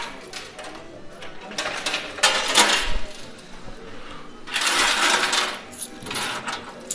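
Coins tumble and clatter in a coin pusher game, with bursts of metallic jingling and sliding that swell, fade and return over a low mechanical hum.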